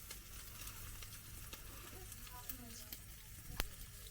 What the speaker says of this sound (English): put them in a little bit of flour with some salt and pepper, and then just fry them off